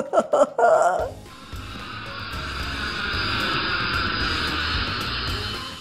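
A toy-play scene where an airplane drones past in a steady, fairly loud engine hum that holds for several seconds after a few brief sharp sounds at the start, with no talk.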